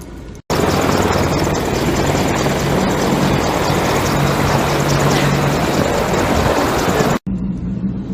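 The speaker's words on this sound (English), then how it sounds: "I had to take some pictures of some Apache something helicopters." Apache military helicopters roar loudly and continuously overhead, their dense rotor and engine noise filling the scene before cutting off abruptly.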